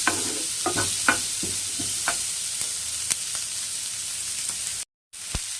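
Large-cut onions sauté in a pan with a steady close sizzle, broken by regular scraping stirs and a brief silence near the end.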